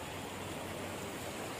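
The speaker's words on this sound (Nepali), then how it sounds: "खोला पनि आइरहेछ यहाँ हेर है गाइज." A flowing river stream along a village road in Nepal rushes with a constant broadband hiss, steady and fairly faint, heard alone without talk.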